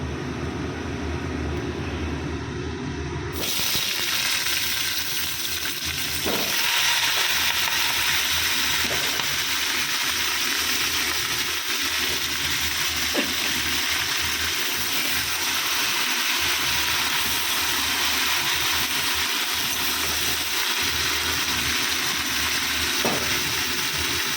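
A kitchen chimney exhaust hood switches on above a stove where dal is cooking, bringing a steady, loud broadband whoosh of fan and air that runs without pause, with faint clinks now and then.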